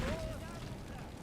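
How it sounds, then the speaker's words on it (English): A wall blown apart in the video game Empire: Total War, a loud, broad burst of explosion noise that lingers as a rumbling wash of debris, with a voice talking over it. "Okay, the wall blew up in a way I didn't exactly expect."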